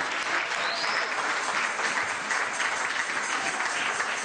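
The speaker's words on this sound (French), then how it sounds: "Acclamez pour la courage." A church congregation at Adonai Nissi Tabernacle applauds on their feet, a full, sustained roar of clapping from the crowd, with faint voices mixed under it.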